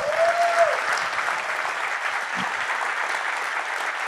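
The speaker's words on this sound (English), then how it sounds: "Clap your hands if you're ready." An audience of insurance agents at a conference claps steadily in sustained applause that fills the room, with a brief tone at the start and no voices over it.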